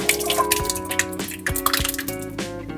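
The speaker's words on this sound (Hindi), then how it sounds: "अब इसी स्टेज पे हम इसमें हमारा जो रगड़े का मिक्सचर है वो डाल देंगे।" Ragda mixture for ragda pattice is tipped into a hot pan, with wet plops, drips and squishy liquid splashes crackling close by over a few seconds.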